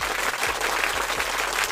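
Rhythmic hand claps repeat steadily in a quick, even pattern, loud and dense, with no talking over them.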